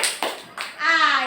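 Young children in a kindergarten class chant a short family clapping rhyme, voices high and close, with a couple of soft hand claps under the singing.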